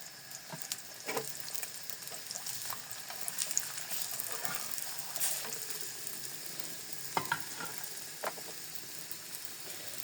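A frozen paratha cooks in ghee on a hot pan at medium heat, giving a steady, soft sizzle with occasional light scraping clicks, moderately close and fairly quiet throughout.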